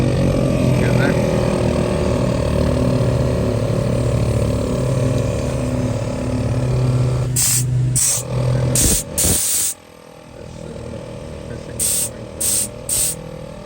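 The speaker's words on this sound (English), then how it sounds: "Put on the air compressor." Air compressor running with an air hose in a workshop, a steady mechanical hum that drops out, followed by short bursts of hissing air.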